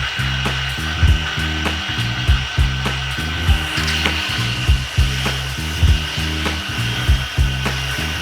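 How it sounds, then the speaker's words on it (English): Grill parts being scrubbed with a wire brush and a Brillo pad to work off debris, giving steady rhythmic scraping strokes with regular louder pulses about once a second, close up and with no talking. "we'll take our wire brush and our Brillo pad and kind of just work off some more of this debris"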